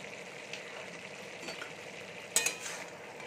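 Soft stirring of mixed vegetables with red lentils in a pan, a faint steady sizzle with a few light spoon scrapes, close and quiet, no talking.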